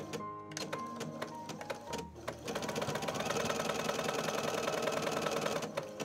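A sewing machine stitching a blouson seam with extended sleeves, first a few separate stitches, then a steady rapid mechanical rattle, quiet and close.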